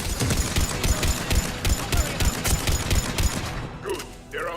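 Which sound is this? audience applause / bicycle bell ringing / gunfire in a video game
gunfire in a video game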